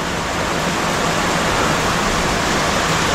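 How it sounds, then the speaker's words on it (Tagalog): Heavy rain pours down during Typhoon Crising in Calaca, a dense, loud, continuous hiss of downpour with no break and no voices. "Biglang buhos."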